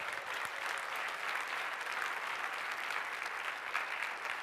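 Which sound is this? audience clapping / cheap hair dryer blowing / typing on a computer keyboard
audience clapping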